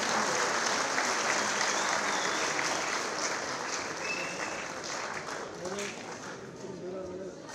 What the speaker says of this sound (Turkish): Evet, Ahi babamızı bir alkışlayalım efendim.